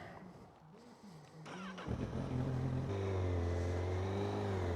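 A Honda CB1000GT motorcycle engine starts from a low idle, then revs up and holds a steady, rising drone close by with a clear harmonic tone, and no talking.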